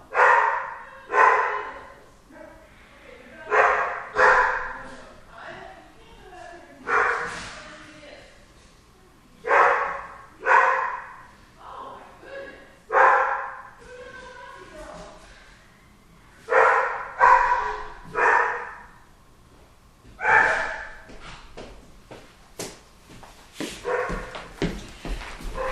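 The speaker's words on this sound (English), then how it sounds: "There's a strange dog in my backyard." A strange dog barks in a backyard, repeated loud bursts of barks in irregular clusters with yips and whimpers between them, fairly close and carrying throughout.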